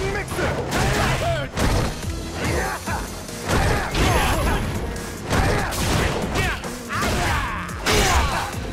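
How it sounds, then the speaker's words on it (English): Rashid's Spinning Mixer special in Street Fighter V, a dense burst of game impacts, whooshes and mechanical effects repeating loudly over several seconds, with a voice speaking over the action. "Yeah, spinning mixer!"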